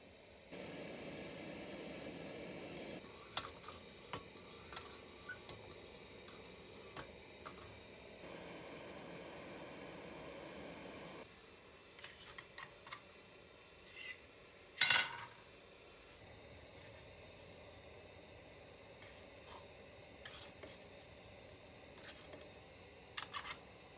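An Optimus camping stove hisses steadily under a pot of water heating toward a boil, with a soft roar interrupted by faint clinks and small knocks, one sharper rattle midway.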